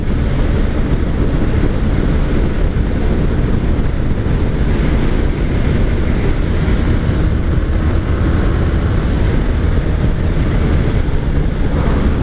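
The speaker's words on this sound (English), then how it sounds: "This bike, if you take care of it, should last forever." A 1984 Honda Sabre VF1100S (V65, 1100) motorcycle being ridden, heard as a constant, loud roar of engine and rushing wind with no breaks, recorded close from the rider's position.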